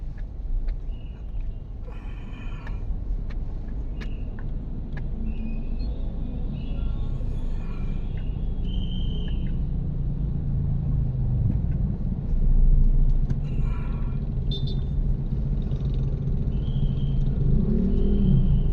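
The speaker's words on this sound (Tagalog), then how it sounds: "Traffic na naman." Road traffic on Lacson Street in Manila at rush hour, a steady low engine rumble of cars and vehicles with occasional horns and a swell of revving midway, close and continuous.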